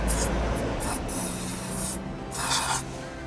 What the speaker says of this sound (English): it's like a 4-in-1 maintenance spray